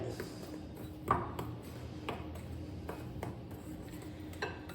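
A spoon mixes semolina batter in a bowl, giving faint scraping with several distinct clinks against the rim spaced irregularly through the quiet.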